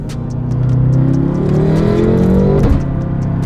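A tuned BMW F10 M5 V8 revs hard under heavy acceleration, its engine note climbing steadily up close before power abruptly cuts out with a sharp drop, leaving a lower drone behind.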